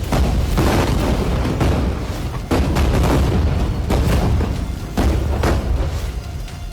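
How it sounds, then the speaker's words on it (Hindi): Dense, continuous rumbling bomb blasts with repeated heavy booms, loud and sustained, several sharp surges standing out across the stretch, during bombing in Gaza. "कहीं एक साथ दर्जनों बम बरस रहे हैं।"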